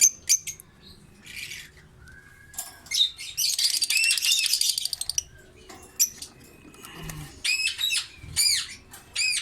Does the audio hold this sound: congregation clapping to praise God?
no